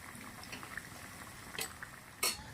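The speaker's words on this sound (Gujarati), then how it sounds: "સરસ મજાના આપણા સ્ટૂપ રેડી થઈ રહ્યા છે, તરાઈ રહ્યા છે" Potato pieces deep-frying in oil for a potato starter, a soft bubbling simmer at moderate distance with a few crisp bursts of spatter near the end, no one talking.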